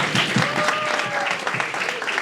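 A panel audience applauds at a women's sports event, steady clapping heard close with talk and whoops over it, briefly.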